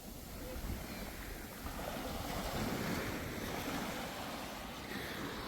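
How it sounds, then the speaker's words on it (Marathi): Sea waves wash steadily onto a quiet Konkan beach near Mithbav, a continuous broad roar of surf with gusty wind on the microphone and no talking. "किती मस्त समुद्र किनारा आहे ना"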